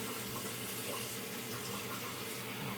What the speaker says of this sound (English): we're going to fill up with some water.